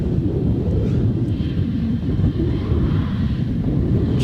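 A Qatar Airways airliner taxis out at Adelaide Airport. Its steady, low jet rumble stays even, with some wind across the microphone.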